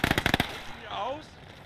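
A Maxim machine gun fires in Gates of Hell: Ostfront, a quick burst of about six loud, evenly spaced shots, followed by fading echo and muffled background battle noise.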